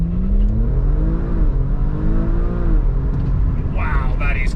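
A 2020 Audi RS4 Avant accelerates hard from a standstill, its engine note climbing loudly and steadily through rising revs from inside the cabin, with a brief higher whine near the end.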